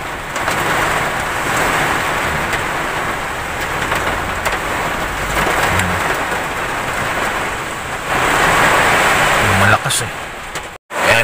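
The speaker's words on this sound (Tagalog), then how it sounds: "tapos ngayon bumuhos na naman" Heavy storm rain pours down in a steady, dense roar that swells louder near the end, with faint voices and low thunder rumbles underneath.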